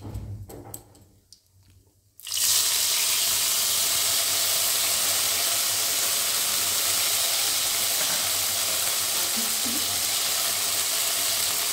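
Ginger and green chillies dropped into hot oil for moong dal, a few quiet kitchen clicks and then a sudden loud, steady sizzle with spattering crackles that continues for about ten seconds.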